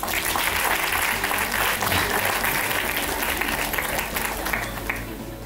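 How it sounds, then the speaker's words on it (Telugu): An audience at a motivational speech event claps loudly and continuously, a dense wall of applause that holds strong before easing slightly near the end, with no voice on top. "మీలో మీరు వీళ్ళని చూసుకుంటే గట్టిగా చప్పట్లు కొట్టండి ఒకసారి"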